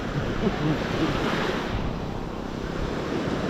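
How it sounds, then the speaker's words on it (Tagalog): Strong ocean surf on the coast of Zambales, Philippines, roars continuously, a dense wash of crashing water with wind buffeting the microphone. "malakas yung alon dito"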